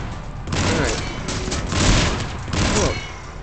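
Gunfire and blasts in Mass Effect 3 Legendary Edition, three or four loud booming bursts of shots in quick succession, with a voice faintly beneath.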